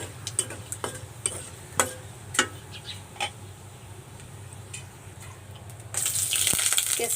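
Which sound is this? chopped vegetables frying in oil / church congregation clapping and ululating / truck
chopped vegetables frying in oil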